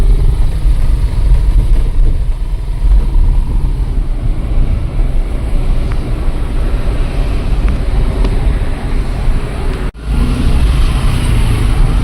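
Heavy road traffic with many buses at the Pasar Rebo roundabout in Jakarta, a dense continuous engine rumble and roar throughout, loud and close, with no talk.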